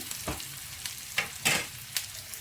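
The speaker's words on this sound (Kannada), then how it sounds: "ಇದು ಈರುಳ್ಳಿ ಸ್ವಲ್ಪ ಫ್ರೈ ಆಗಲಿ ಅಷ್ಟೇ" Onions fry in a small amount of oil in a pan, a low continuous sizzle with a few crisp scraping stirs spaced through the moment, close up and free of talk.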